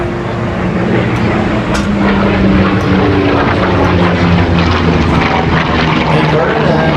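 A Corsair propeller fighter plane roars loudly and steadily overhead at the 2014 MacDill Air Fest, its engine droning without a break for the whole stretch.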